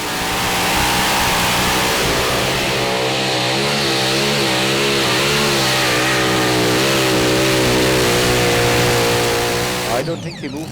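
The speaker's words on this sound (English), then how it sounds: "And the next tractor is Let's Try from Holland." The pulling tractor Let's Try from Holland roars at a Eurocup tractor pulling final in Brande, Denmark, its engine revving loud and sustained with a wavering pitch before cutting off abruptly near the end.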